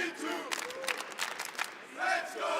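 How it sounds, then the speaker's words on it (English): Fans in the esports arena at the R6 Major Copenhagen finals cheer and roar in swelling waves while a caster talks over the noise. "Definitely a G2 favored crowd here, that's for sure."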